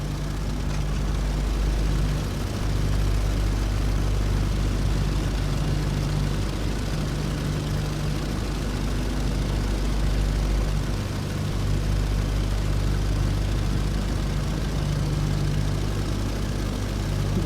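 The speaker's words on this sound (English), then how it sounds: "Same biplane, just a bigger engine" A biplane bomber engine in the 2011 flight game Air Conflicts: Secret Wars drones loudly and steadily for the whole stretch, a deep propeller hum with sustained low tones and no voices.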